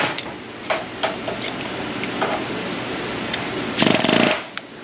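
Sharp metallic strikes of a chisel being hammered on a Ford F250 suspension during a rebuild, a few irregular close taps followed by a brief harsh rattling burst, with no talk.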